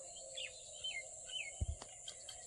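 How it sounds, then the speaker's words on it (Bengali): Birds chirp faintly in the distance on a foggy winter morning, a few thin rising calls over quiet outdoor air, with a couple of low thumps nearby. "সকাল সকাল পাখিদের কলাহাল"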